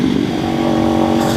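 Motorcycle exhaust at a steady, loud rumbling idle or cruise, with a strong, even engine tone throughout a short burst.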